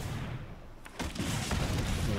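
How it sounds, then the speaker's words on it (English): A rumbling explosion effect from the Magic: The Gathering Arena digital card game, a loud, dense burst of broadband noise that swells and carries on for about two seconds with no talking over it. "Just a little explosion."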